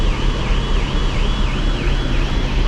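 Car alarm going off aboard a ferry, a loud wailing electronic tone sweeping up and down in a steady repeating cycle over the low rumble of the ship's engines.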